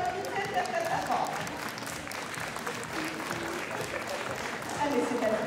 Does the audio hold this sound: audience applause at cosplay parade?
yes